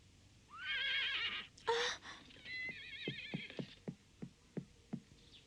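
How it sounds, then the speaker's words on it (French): A pony whinnies loudly and shakily, gives a second squealing neigh, then its hooves clip-clop in a string of sharp, evenly spaced knocks. "C'est le poney de Mademoiselle Sarah, il n'est pas à vous."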